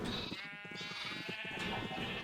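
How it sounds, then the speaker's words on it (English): Sheep bleat in the Agrarian Skies video game, with several drawn-out, wavering cries overlapping one after another at a moderate, close level and no voices over them. "Come on, boys. Come down this way. All the sheep come."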